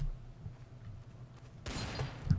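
Gunfire from a Garry's Mod DarkRP game session: a low, steady rumble gives way to a louder burst of rapid shots in the second half, ending in a sharp report near the close.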